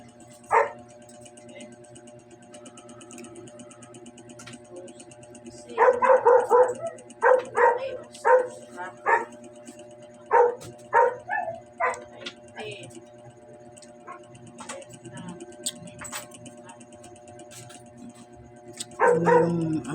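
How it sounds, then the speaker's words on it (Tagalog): A neighbor's dog barks in bursts of sharp yaps and yips, one early bark, a dense cluster midway, then another near the end, over a steady low background hum. "Ano yung aso ng kapitbahay?"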